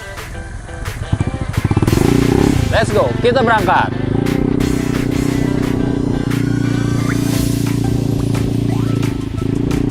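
A Honda Beat Hybrid scooter running on its petrol engine starts up and settles into a loud, steady close-up drone with a buzzy exhaust note, while a person speaks briefly over it early on.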